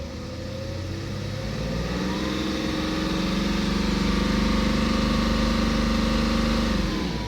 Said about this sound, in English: Now if we take it up to about 3000 RPM